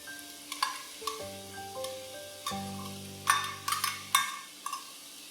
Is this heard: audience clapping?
no